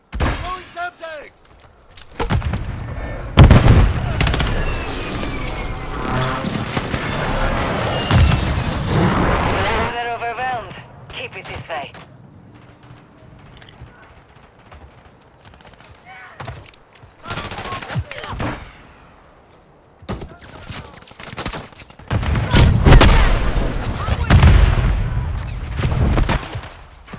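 Precision airstrike explosions and gunfire in a military shooter video game, with repeated loud bursts and booming impacts across the clip, broken by a quieter stretch, while game character voices call out over the action.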